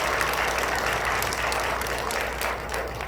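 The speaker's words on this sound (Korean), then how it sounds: "우리 앞으로 좋은 얘기 더 해달라고 큰 박수 부탁드리겠습니다." Big round of applause from a crowd at a rally, steady close clapping filling the whole three seconds over a low background hum.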